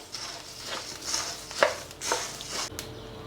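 Coriander seeds dry-roast in a pan for garam masala, giving soft scattered crackles and pops with scraping stirs, close and fairly quiet.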